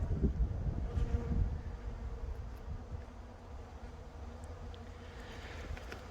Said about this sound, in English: Some of the bees, the flyers, that you can see sort of milling around at the minute